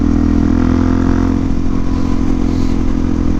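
Motorcycle ridden in cold weather drones continuously nearby, a steady low engine hum with slight clatter and no change in pace.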